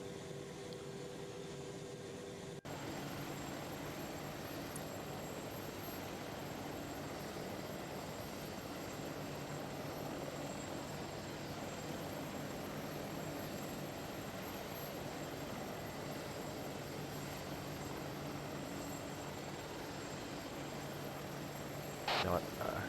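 An Apache helicopter in Arma 3 drones steadily at a distance, a low continuous rotor and engine rumble that holds level for most of the stretch, with faint radio-style voices now and then.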